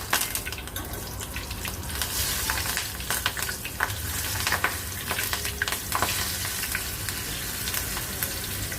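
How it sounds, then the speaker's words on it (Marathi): Green chillies fry in hot oil for dal vada, giving a steady, close, crackling sizzle with scattered louder pops and a stirring sound, and no voices. "म्हणून आपण मिरच्या घेऊया तळून"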